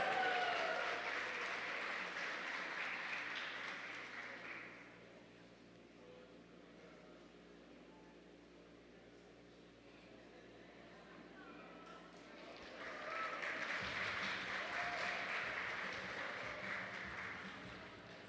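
Audience at an education seminar applauding during a certificate presentation, a steady wash of clapping at the start that fades into a quieter stretch, then swells again near the end, heard at moderate distance.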